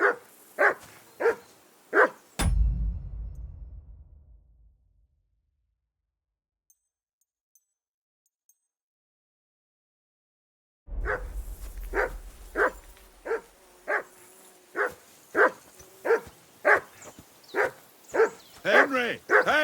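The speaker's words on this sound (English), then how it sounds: "Call off that mutt of yours!" A dog in Kingdom Come: Deliverance II barks in quick repeated bursts, loud and close, at the start, then after a long silence it resumes with a steady run of sharp barks, with some talk mixed in.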